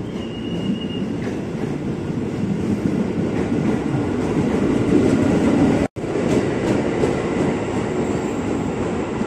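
A KRL commuter train rumbles loudly and steadily arriving at a station platform in Depok, wheels clattering and faintly squealing, with a brief cut in the middle before the rumble resumes.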